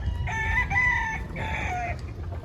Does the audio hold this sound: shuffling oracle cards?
no